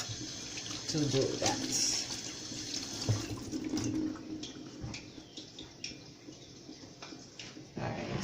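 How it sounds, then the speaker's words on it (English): Tap water runs into a sink as hands are washed in a home kitchen, a steady splashing flow with small drips and clatters while a person talks briefly over it. "I'm gonna wash my hands"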